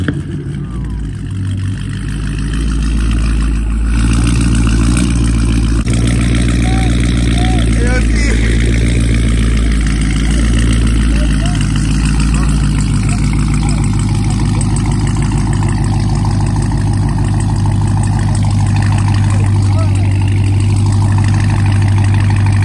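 A 2019 Dodge Charger Scat Pack rumbles at a deep, loud idle close by, steady low engine drone with occasional slight revs, while people talk over it.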